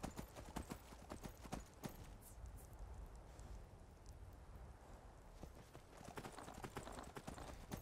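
Horse hooves clip-clop in a quick, steady rhythm in the video game Skyrim, close by, trotting continuously with a brief softer stretch midway.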